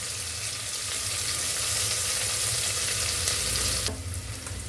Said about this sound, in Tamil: வெங்காயம் போட்டு நல்லா ஒரு ப்ரௌன் கலரில் வரணும். அது வரைக்கும் நம்ம நல்லா வறுத்துக்கலாம்